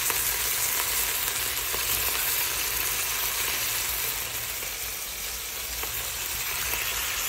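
Eggplant sautés in a pan for adobong talong with bagoong, a dense continuous frying hiss with faint stirring movements underneath, close and steady.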